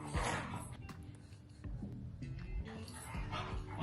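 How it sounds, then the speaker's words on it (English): Dogs playing indoors early in the morning, with yips, whimpers and short barks scattered through a steady background hum, fairly close and continuous over a few seconds. "I don't know if you guys can hear the dogs playing."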